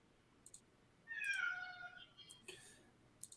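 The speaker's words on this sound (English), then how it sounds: "That's a loud kitty." A cat lets out one loud, drawn-out meow up close, followed by a few shorter, softer mews and light clicking noises in an otherwise quiet room.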